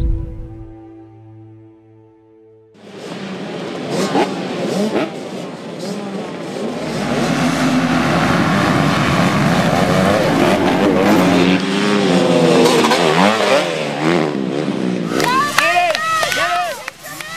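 Motocross bikes and quads race around the Lincoln Trail Motorsports track, their engines rising from near silence into a loud, continuous snarl with sweeping revs and pitch shifts as machines pass close by, while a voice talks over them.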